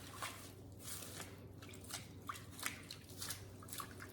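Freshly picked chives swished by hand in a bowl of clean water, soft watery sloshing with scattered drips and squishes, close and quiet, no talking.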